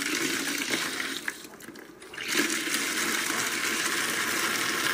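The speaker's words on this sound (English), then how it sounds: "Okay, I got water coming out." Water spurting from a plugged steam radiator valve fitting, hot and a little steamy, a steady broadband hiss and splatter running close and loud through the whole stretch with a brief dip midway.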